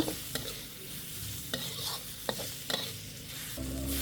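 Long beans stir-fry in a pan with a soft continuous sizzle, broken by several distinct clacks and scrapes of a spatula tossing them, quiet and close.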